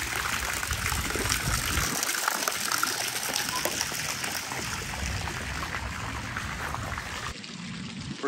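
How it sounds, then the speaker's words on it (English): Water features splashing into a backyard swimming pool, a steady rushing gush and trickle of falling water heard alone at moderate distance. "A couple water features going."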